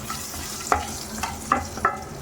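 A spoon stirs mango pulihora rice in a pan, making several quick scraping clicks over a faint sizzle, close up and without any voices.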